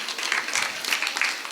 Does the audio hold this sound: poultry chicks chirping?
no